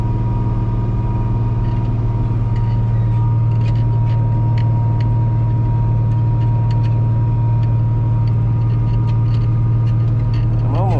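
Massey 9795 tractor disking a field, a steady loud low engine drone running continuously with faint rattling clinks from the implement across the whole stretch.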